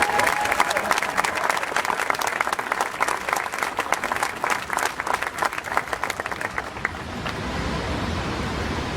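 A crowd at the Larry Holmes statue dedication applauds Joe Frazier's daughter with dense, steady clapping that holds for several seconds, then thins and fades toward the end.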